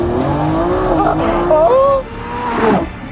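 A Lamborghini supercar roars through a timed lap on a track, its engine note rising and falling loudly and close throughout, with tyre squeal mixed in and a voice talking over it.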